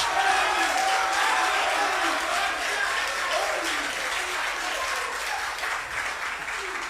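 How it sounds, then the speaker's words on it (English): A crowd at a high school debate at Christian Service University College claps and cheers steadily for seven seconds, with scattered whoops and shouts rising above dense, even applause that stays loud throughout. "Let's make the applause louder and make some noise if you have enjoyed the debate"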